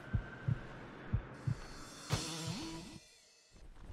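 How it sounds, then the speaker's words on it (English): Low-health heartbeat warning in the video game Brutal Legend, repeated deep double thumps at a steady rhythm, loud and close, followed by a brief swelling whoosh and fading tones. "You can hear my heart beating, which means I'm about to die."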